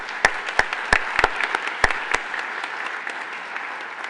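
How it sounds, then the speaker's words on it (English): Audience applause for award nominees at a robotics conference awards ceremony: steady clapping with a few sharp, close claps standing out early on, then thinning into a softer spread of applause. "let's give them all a round of applause"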